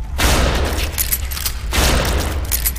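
Shotgun blasts in a demon-fighting video game, two loud booming shots about a second and a half apart, each with a broad crashing tail, no talking.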